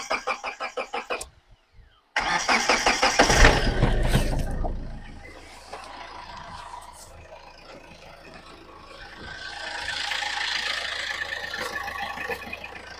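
A Hyundai Verna car engine cranks with a short burst, then settles into a quiet, steady idle heard close by with no talking.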